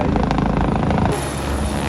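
Helicopter at the Kedarnath helipad, a loud continuous rotor and engine drone with rhythmic blade thumping that shifts and thins midway as the craft moves, heard close with no talking.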